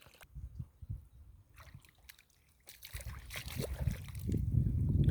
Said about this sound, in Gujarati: આગળ હવે આપણે નાના ઘઉંમાં પાણી જાય છે એ જોઈશું